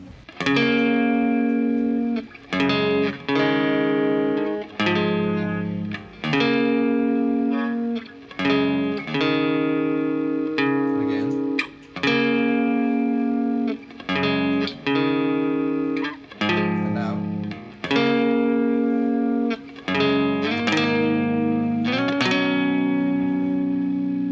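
A distorted electric guitar plays a repeating riff of sustained, chorused chords with short breaks between phrases, heavy with effects and reverb.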